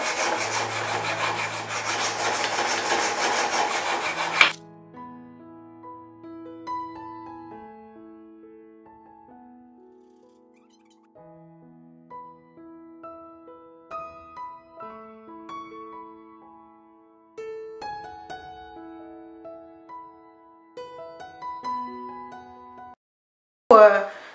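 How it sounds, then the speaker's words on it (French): Wood fibres are scraped off a wooden surface in a few seconds of dense, close rasping at the start, followed by quiet melodic tones with no scraping. "Vous voyez comment je suis en train d'enlever les fibres."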